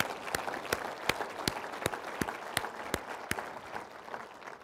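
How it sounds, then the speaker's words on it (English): An audience at a State of the Government address gives a round of applause, a faint, even spread of many hands clapping with several sharp, regularly spaced nearby claps standing out, no talk. "I think our economic development staff deserve a round of applause for their outstanding work"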